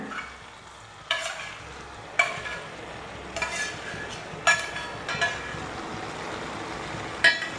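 Prawns, first fried and then cleaned of heads and tails, being stirred in a pan for a prawn curry, with a steady background sizzle broken by several sharp scraping stirs spaced a second or so apart.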